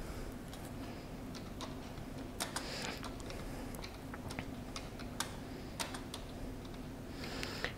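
Keys on a computer keyboard are tapped in irregular bursts as a company name is typed, crisp close clicks with short pauses over a faint steady hum.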